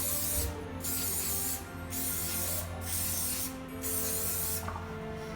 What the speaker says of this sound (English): So I'm going to just spray lightly.